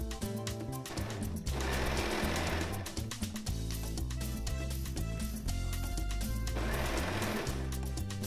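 A sewing machine runs in steady bursts of rapid mechanical stitching while a kids' hoodie hood is sewn, its whirring motor stopping and restarting between runs under background music.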